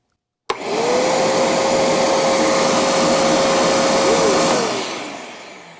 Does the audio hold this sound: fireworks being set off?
no